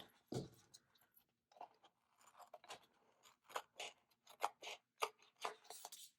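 Scissors snip through coral patterned paper for a planner, a series of close, crisp, quiet cuts and paper rustles in an irregular rhythm, with no talk.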